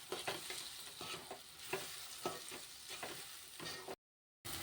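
Chili powder fries with ginger paste in a pan for an eggplant curry, a soft, quiet sizzle punctuated by rhythmic stirring scrapes, with a brief dropout near the end.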